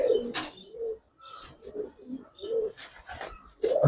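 Giribaz and pankhi pigeons coo in a series of soft, close calls with brief chirps between them, one perched on a person's hand; no voices.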